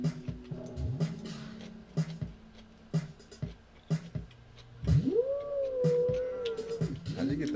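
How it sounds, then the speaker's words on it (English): A theremin played on its low end produces a rising, sustained, revving drone like a motorcycle engine. It comes after scattered knocks and short voice-like sounds, with people nearby. "How'd you get that motorcycle noise?"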